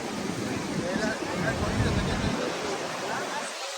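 Niagara Falls roars as a steady, dense rush of falling water, heard up close and loud throughout, with wind buffeting the microphone.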